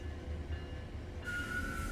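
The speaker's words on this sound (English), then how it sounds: "I can pull in, but the train is not going to fit." Train pulling into a station in Train Sim World 5, a steady low rumble of rolling cars with a high brake squeal that starts partway through and holds to the end.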